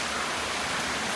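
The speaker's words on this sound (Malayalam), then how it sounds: "എന്ത് മഴയാണ്, ഇത് കൊടയാണ് എന്നൊക്കെ." Rain pours down as a continuous, close, broadband hiss with no breaks or voices, steady across the short stretch.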